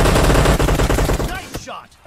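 Loud, rapid gunfire from a team deathmatch video game, a dense burst of automatic shots that cuts off abruptly, followed by brief quieter game sounds.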